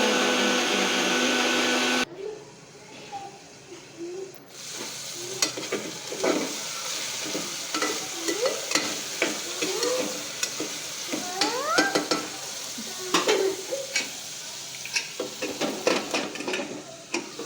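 A ground paste of tomato, green chili and garlic frying in a pan, with soft sizzling and stirring scrapes and taps coming in irregular bursts, close and moderately quiet, with no talking.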